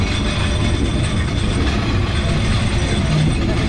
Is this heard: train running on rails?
yes